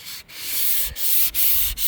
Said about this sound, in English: So when I sand, I'll stay away from this edge, and I'll do it in a diagonal.